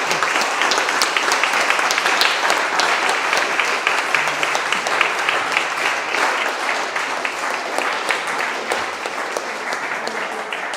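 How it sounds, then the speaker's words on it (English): A launch-event audience applauds warmly, with dense, sustained clapping that fills the room at a steady level for several seconds. "So a round of applause,"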